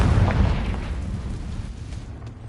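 A Confringo explosive spell blast in Hogwarts Legacy, the video game, goes off as a single heavy, close explosion, then dies away into a sustained low rumble.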